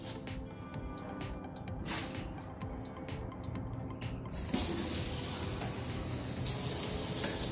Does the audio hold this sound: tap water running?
yes